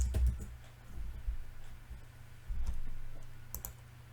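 Computer keyboard typing, a few quiet, close key clicks in small clusters over a low steady hum, with no talking.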